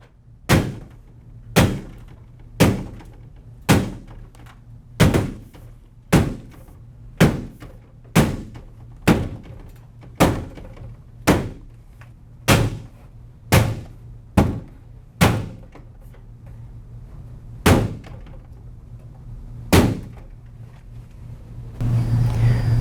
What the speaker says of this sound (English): hitting with the mallet on the inside of the jamb